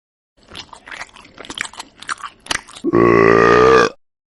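Close, loud wet chewing and crunching of a burger in rapid irregular bites, followed by a long drawn-out vocal groan or burp-like sound at the end.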